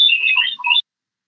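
A quiz buzzer pressed during the buzzer round of a medical quiz grand finale gives one bright electronic tone lasting under a second, then cuts to silence.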